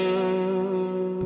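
Electric guitar through a single effect preset, one steady sustained note with rich harmonics and a lush echo and chorus wash, heard alone and fairly full, ending with a short sharp click.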